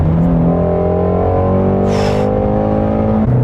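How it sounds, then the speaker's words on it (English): Shelby GT350R Ford Mustang engine pulling hard at speed, a loud, steady, tonal roar rising in pitch with a brief whooshing burst near the middle, heard from inside the car. "the sound when you're moving fast is so good"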